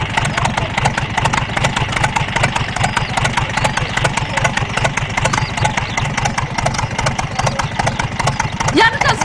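A car engine idles steadily throughout in a Polish television drama scene, a constant low mechanical rumble running beneath overlapping voices of people talking.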